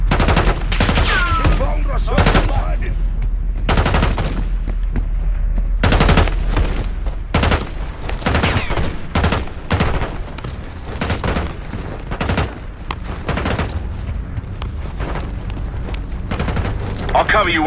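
A gunfire exchange in the Call of Duty: Black Ops 6 campaign crackles with loud, repeated shots and rapid bursts, some booming, spread across the whole stretch, while voices talk between and under the shooting.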